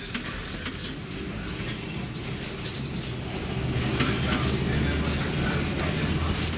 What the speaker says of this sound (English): The sound of a Melbourne tram.